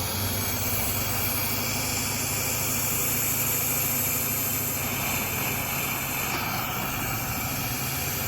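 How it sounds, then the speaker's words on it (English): A car engine idles steadily while Seafoam is poured into it, a continuous broad mechanical hum and vibration with no pauses and no talk. "When it sounds like the car's about to cut off, chill out with the pouring."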